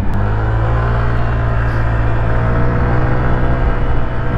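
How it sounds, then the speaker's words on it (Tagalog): Honda Click 125i scooter fitted with 10/12 flyball weights and an upgraded pulley, its engine droning loud and steady under throttle close to the microphone, with no talk. "nararamdaman ko talaga yung response ng kanyang makina ayan kapag ka tina-throttle natin"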